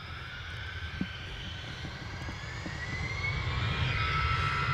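An EasyJet jet departs Manchester Airport for Belfast, its engine roar a distant, steady rumble with a high whine that swells slowly as the aircraft climbs, with no talk over it.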